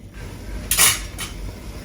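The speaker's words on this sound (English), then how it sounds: "And literally this is stir frying." Two short metallic scraping clatters of a utensil stir-frying kale in a pan, over a low steady hum of kitchen background noise.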